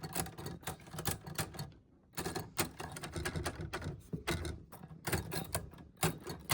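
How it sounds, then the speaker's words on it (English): A dusty Remington noiseless typewriter from the 1940s or 1950s is typed on in fast, steady bursts of muffled key strikes, pausing briefly in the middle before the clacking resumes, close and fairly loud. "this typewriter is absolutely fully working"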